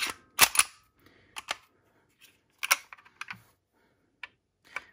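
An HK USP pistol is function-checked, producing sharp close metallic clicks and clacks of the slide and trigger, spaced irregularly with quiet gaps between them.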